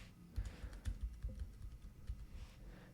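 Soft, fairly faint keystrokes on a computer keyboard tap out an uneven rhythm of a dozen or so clicks against a quiet background hum.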